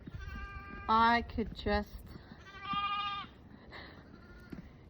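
A ewe bleats loudly and close by in a lambing jug, giving two harsh calls and then a longer drawn-out bleat, with a person speaking briefly between them.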